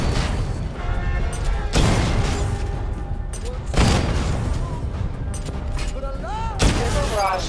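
Missile barrage weapon at level 2 firing in a video game: booming blasts recur roughly every two seconds, loud and close, over a steady bed of game music and rumbling effects.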